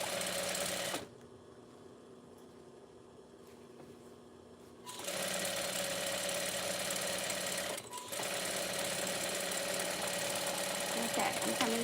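Industrial sewing machine stitching a baby blanket, its motor whirring in a loud continuous run that pauses briefly, resumes strongly, and dips once more near the end, with a quieter hum between bursts.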